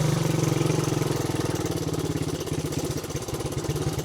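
A dirt bike engine climbs a steep, grassy mountain trail at low speed, with a steady, close, throbbing putter and rapid rhythmic pulses that rise and fall slightly.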